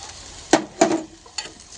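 Sabudana khichdi being stirred in a hot pan, with three short, close scraping and sizzling strokes of a spoon against the metal, separated by brief pauses, no talking.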